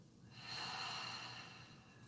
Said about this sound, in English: Open your mouth, exhale loud and long.